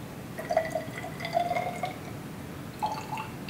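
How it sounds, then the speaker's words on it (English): Water poured from one graduated cylinder into another in a lab measuring solutions, heard as a thin trickle with bright dripping and glassy plinks in short bursts, close by and fairly quiet with no talk over it. "we'll try to pour all of the water"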